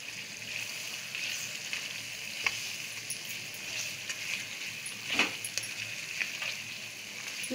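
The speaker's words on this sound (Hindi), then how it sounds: "मसाले को मैं अच्छी तरह से भून लूंगी।" Spices frying in a pan for a chicken and moringa curry, with a continuous close sizzle and occasional light scrapes from stirring, no voices present.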